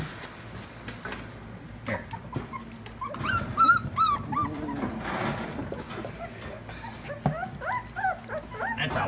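A puppy eats its first meal of chicken at close range, with wet chewing and lapping broken by whimpers, yips and short whines, while a person speaks softly now and then in the background.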